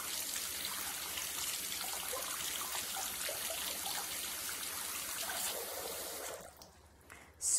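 A paintbrush being swished gently and rinsed in a container of water gives a steady soft trickling and sloshing that runs for several seconds, faint and close, then stops abruptly.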